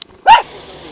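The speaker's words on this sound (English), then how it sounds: "there's a vicious doggy here, right on the edge of the trail. It's threatening us" A dog at the edge of a trail in rural Hungary lets out one sharp, loud bark close by, followed by quiet.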